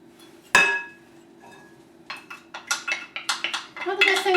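Chopped green pepper is stirred in a clear bowl, with a sharp clink at the start and then a run of quick, rhythmic scraping and tapping strokes that grow busier toward the end, close and moderately loud.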